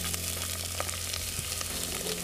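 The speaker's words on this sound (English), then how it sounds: "I'm gonna let this olive oil heat up for about a minute. Just heat it up. I'm gonna add my onions." Onions added to hot olive oil in a pan for broccoli soup, producing a steady close sizzle and crackle throughout, with a low background hum underneath.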